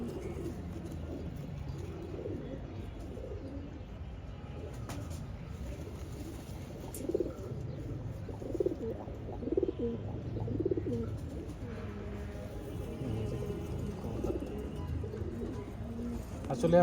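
Brown-necked khoira-gola pigeons on a rooftop coo softly in repeated low, throaty bursts against a constant outdoor background.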